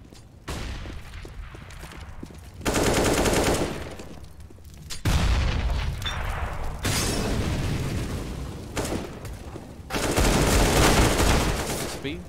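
Pistol fire in Counter-Strike on the map Nuke during a professional esports match, heard as repeated bursts of shots and impacts in several loud clusters, with caster commentary running underneath.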